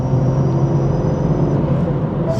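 BMW 440i with an MST intake, downpipe and stage 2 tune, its engine humming loud and close in a steady idle-like drone with a deep low rumble.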